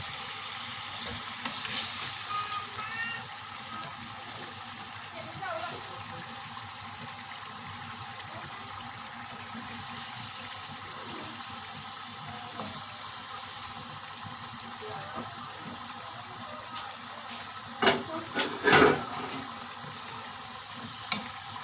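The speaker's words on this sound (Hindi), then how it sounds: "और इसको अच्छी तरह से फ्राई करेंगे। इसको बहुत ही अच्छी तरह से फ्राई करें।" Chicken frying with onions in a karahi for a Karachi-style Cholistani chicken karahi, a continuous soft sizzle with occasional stirring scrapes and a few louder clatters near the end, close by.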